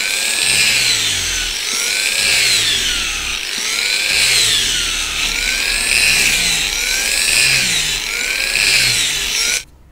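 A power polisher sands a surface with grade 2000 sandpaper, whining loudly and continuously in a steady cycling rhythm, up close and alone for ten seconds before cutting off.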